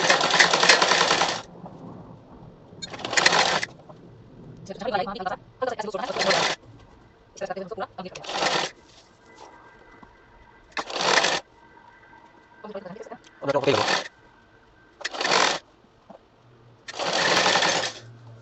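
Short, sharp bursts of a sewing machine stitch bias binding strip onto fabric. Several brief runs alternate with quiet pauses while someone talks in between.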